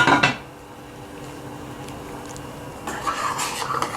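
A metal lid clatters onto a pot of pasta boiling on the stove, a sharp clang at the start followed by low bubbling and a few more faint clinks of cookware.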